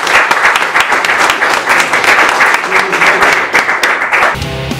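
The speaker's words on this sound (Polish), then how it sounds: "Jeszcze raz gromkie brawa" An audience at a live stand-up comedy show gives loud, dense applause that carries on strongly for about four seconds before cutting off abruptly into quieter room sound.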